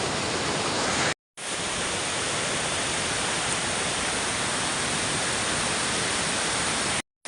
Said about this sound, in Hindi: ये पूरा स्रोत सुनाई दे रहा है नदी का।